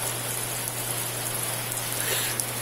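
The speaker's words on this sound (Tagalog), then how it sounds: "Ay, walang humpay na ulan." Heavy, relentless rain pours down on a flooding riverside area, a dense steady hiss of drops drumming on surfaces with a low constant hum beneath, unbroken and fairly close, with no talking.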